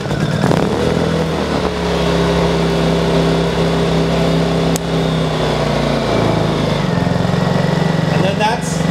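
A Honda 2200i camping generator runs close by with a steady, loud droning engine hum that shifts pitch slightly near the end, with some talking mixed in.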